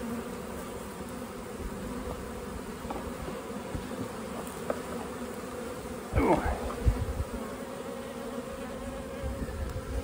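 Honeybees fly around a hive on a day when the snow is melting, giving off a steady, dense buzz of many wings. A few louder passes come close to the ear in the middle of the stretch.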